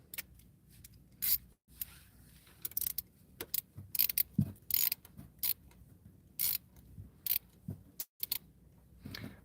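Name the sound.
ratchet tightening down a bolt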